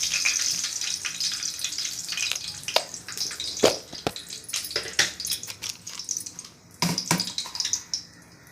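Mustard seeds and urad dal fry in hot oil, crackling and spitting in irregular bursts of sharp pops over a hissing sizzle.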